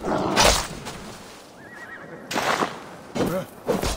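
A horse neighs in the video game Assassin's Creed Valhalla, with short bursts of whinnying over soft game ambience and a brief faint tonal sound, fairly close and moderately loud.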